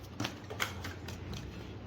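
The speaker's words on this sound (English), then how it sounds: "we'll give it one more shuffle" A deck of tarot cards is shuffled by hand, a few quiet, soft riffling clicks and taps in quick succession, faint and close with no voices.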